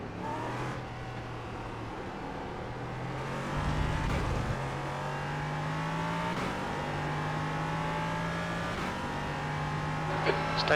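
Race car engine in the iRacing video game at Suzuka in the rain, revving steadily with gear shifts, under a driver's voice talking.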